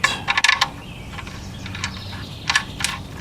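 A ratchet clicks in short bursts while an engine oil drain bolt is threaded back in during a break-in oil change, sharp close mechanical ticks separated by brief pauses.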